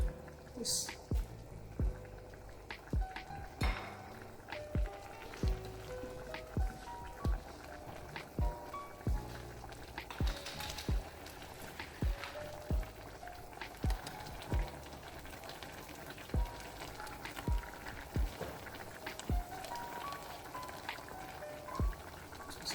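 A pot of Afang soup with palm oil bubbling on the stove: a steady run of soft pops and plops at a fairly even pace, with a low background hum throughout.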